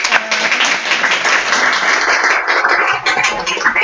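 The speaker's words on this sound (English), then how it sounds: "So maybe just a big round of applause to" An audience applauds a guest named Connie at a talk on building entrepreneurs for social change, the clapping dense and steady throughout, close and loud with no talk over it.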